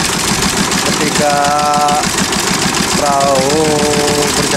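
A fishing boat's engine chugs in a fast, steady throb while crab nets are set off the coast of Losari, with a voice talking over the close, continuous motor.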